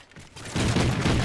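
Shotgun fire in the multiplayer shooter Call of Duty Ghosts: a loud, dense burst of blasts that swells over about a second, with no voices.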